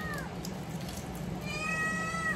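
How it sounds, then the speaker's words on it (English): A cat meows in a kitchen where a pregnant American Bully's meal of raw eggs is being mixed in a bowl, with two rising, tonal cries close by over steady background hum. "Right here, that damn cat."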